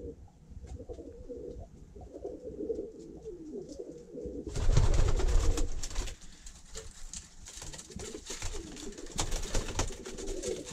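Pigeons cooing in a dovecote, a steady layer of low repeated coos close by, swelling louder midway with a burst of fluttering and shuffling before settling back into soft continuous cooing.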